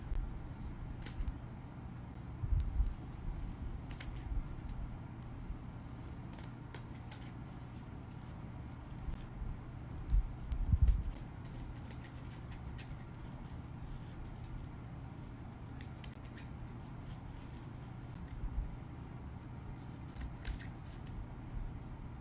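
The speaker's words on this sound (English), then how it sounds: "And then you just start trimming the ends up and cutting the loops." Scissors snipping through yarn ends and loops while finishing a handmade pom-pom bunny tail, a few soft, close, sporadic cuts over a steady low hum, no talking.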